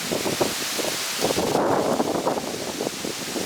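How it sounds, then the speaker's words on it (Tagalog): Strong wind gusts across an exposed nature trail on a climb, a dense, steady rush of air buffeting the microphone with faint rustling, and no voices. "Malakas ang hangin."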